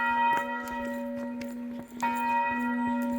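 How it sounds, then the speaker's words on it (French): A small church bell rings out clearly on a countryside hike between Saint Amans des Cots and Bez Bédène, two distinct strikes with long sustained tones that hum and linger between them. "En l'occurrence, c'est la petite cloche."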